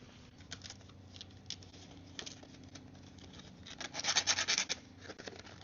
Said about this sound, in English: I'm gonna clean all that off with some sandpaper.